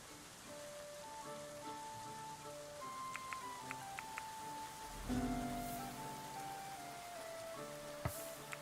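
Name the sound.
rain falling in video game Going Medieval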